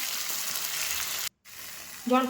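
Chopped onion and tomato frying in a pan of oil where bhola fish was fried, a steady broadband sizzle that cuts out briefly, then resumes with a louder burst as the vegetables hit the hot oil.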